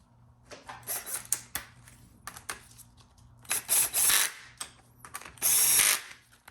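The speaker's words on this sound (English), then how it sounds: "the PWM solenoid kind of rests right over this bolt here that I'm torquing" A hand ratchet clicks in quick bursts while torquing a valve body bolt on a GM 4L60E automatic transmission during final assembly, with several pawl runs spaced close to the listener alongside a faint steady hum.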